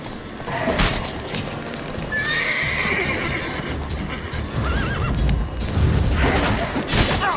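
Roach the horse gallops in Witcher 3, with steady clip-clop hoofbeats and a whinny over a loud, dense game soundscape of rumbling ambience and effects.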